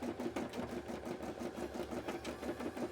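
A sewing machine stitches embroidery for a cosplay piece, its needle clattering in a fast, even rhythm, steady and fairly quiet, heard up close without any talking.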